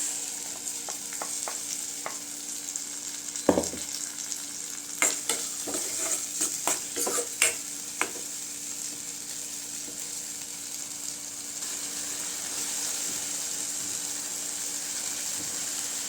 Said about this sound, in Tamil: வெங்காயம் வதங்கிருச்சுங்க இப்போ தக்காளி அரைச்சி வச்சு பேஸ்ட்டு சேர்த்துக்கலாம்